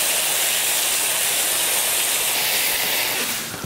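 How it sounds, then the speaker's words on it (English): A foamer sprays medicated shampoo onto a slick-shorn calf as a loud, steady, close hiss that runs unbroken and tapers off at the end. "we'll put a light coat on with our foamer of medicated shampoo"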